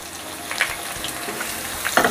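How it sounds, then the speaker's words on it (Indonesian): Thinly sliced shallots sauté in hot oil with garlic for a fried stuffed tofu filling, giving a soft, steady sizzle with a few light stirring scrapes, close and fairly quiet. "Saya masukkan bawang merah yang juga sudah diiris tipis."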